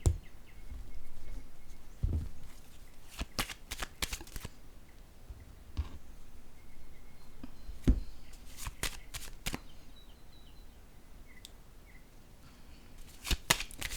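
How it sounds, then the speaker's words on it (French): A deck of tarot-style cards is handled close by: sharp riffling shuffles and quick flicks in short bursts, separated by quiet pauses and soft rustles as a card is drawn. "Je vais piger une autre carte sur l'hésitation"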